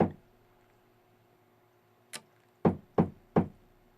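Knocking on a door: a faint single tap, then three firm, evenly spaced knocks close by in an otherwise quiet room.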